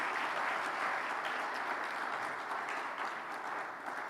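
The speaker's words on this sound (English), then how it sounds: "I think he deserves a better round of applause" Sustained applause from a large conference audience after a speech, steady and dense throughout, with many hands clapping at once and no voices standing out.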